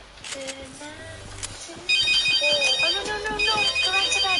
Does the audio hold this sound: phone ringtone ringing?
yes